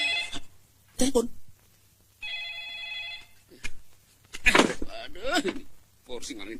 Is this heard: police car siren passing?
no